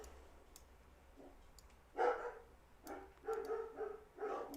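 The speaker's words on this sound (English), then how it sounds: "And the dogs are barking." Dogs bark in the background, a few quiet, scattered barks and yips arriving in short bursts at a moderate distance.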